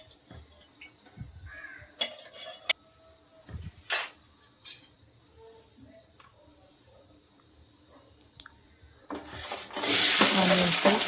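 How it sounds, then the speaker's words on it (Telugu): A curry tempering of onion, garlic, chillies and curry leaves hits hot oil in a pan and breaks into a loud, steady sizzle near the end, after quiet kitchen clatter and crow caws outside. "ఇంకా కర్రీ కోసం అయితే తాలింపు అయితే వేస్తున్నానండి."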